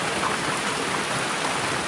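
Heavy rain pours in a dense, steady hiss, loud and close, with no pauses or voices.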